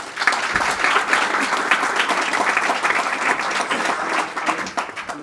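Warm audience applause for a speaker at a conference on new interfaces for culture, steady dense clapping from a sizeable crowd, loud and continuous throughout without any talk.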